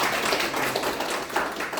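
Applause at a Gwangmyeong City briefing on the results of a ground subsidence accident investigation, given for the accident investigation committee and city officials; a short burst of moderate clapping from a modest crowd, no talk over it.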